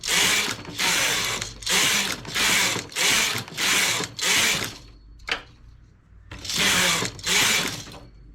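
A knitting machine carriage slides back and forth across the needle bed knitting rows, with loud, close, regular rattling passes, about seven in a row, then a pause with one short clack, then two more passes.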